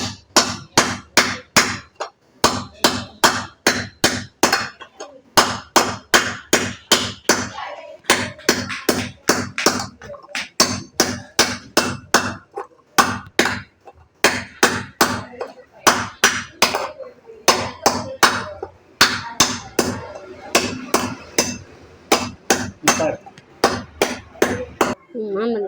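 Metal sambrani incense ladle being hammered to form its hollow: rapid bursts of sharp, ringing hammer blows in quick rhythmic runs, separated by short pauses, close and loud throughout.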